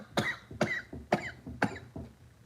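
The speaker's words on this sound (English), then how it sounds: "oh my gosh, y'all, coughing hurts so bad" A person recovering from heart surgery coughs four times in quick succession, each a sharp, close, painful-sounding burst with short pauses between, ending in a faint throat sound.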